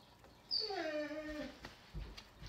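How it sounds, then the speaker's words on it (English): A pet dog howls once in a quiet room, a single rising then falling wavering tone lasting about a second, followed by faint soft thumps and small noises. "It's my own dog howling."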